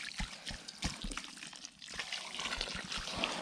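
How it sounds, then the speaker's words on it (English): Water trickles and splashes steadily for a few seconds into mortar mix for cordwood building, with soft scraping and sloshing of the wet mix underneath. "Okay, right, adding in some water."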